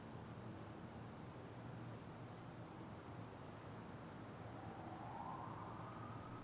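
A distant police siren rises faintly over steady low rumble and hiss near a prison site, its wavering wail growing audible only toward the end.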